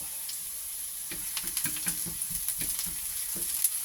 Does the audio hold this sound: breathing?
no